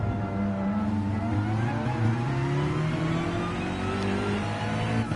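Mercedes and Porsche race cars howl at Spa in a wet sim racing session, with engines droning at high revs and pitch gliding slowly upward as they accelerate, steady and close with no gaps.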